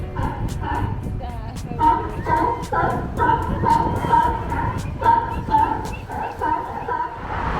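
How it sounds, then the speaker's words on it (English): Repeated hoarse barks from seals under a pier at the Santa Cruz Boardwalk, several animals calling over one another in a steady, echoing chorus, fairly loud against a murmur of background voices. "all you can hear is just oh, oh, oh, oh. And it's just all seals laying underneath."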